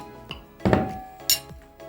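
Room-temperature butter going into a dry bowl, heard as a few close, bright clinks and knocks of utensil against bowl spread over a couple of seconds.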